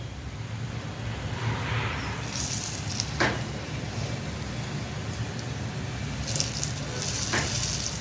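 Chilli bhaji batter fritters fry in hot oil with a dense, steady sizzle. Occasional spatula clicks and brief bursts of brighter crackle cut through, and nobody speaks.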